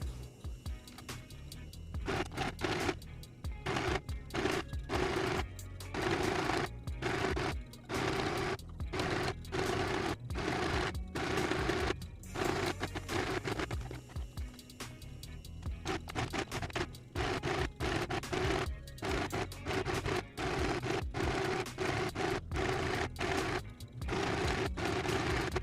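Sewing machine stitching skirt pieces together, a fast, steady mechanical whir in bursts with short pauses between runs, close and fairly loud.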